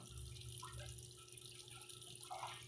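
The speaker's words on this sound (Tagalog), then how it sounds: "pasok na po yung tubig" Water pouring into the drum of a TCL 7.5 kg automatic washing machine, a faint steady rushing and splashing stream with light gurgles, heard alone at close range.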